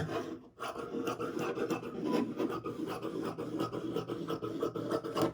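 Scissors cut through lining fabric for a bespoke English-style jacket, giving a steady, close rasping and scraping run with repeated snips and a brief pause near the start.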